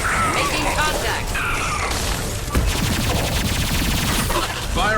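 A high-impact shot fired in Mass Effect 2 during a loud firefight: sharp bursts of gunfire and rattling volleys over a dense combat backdrop, with a strong impact near the middle and voices mixed in.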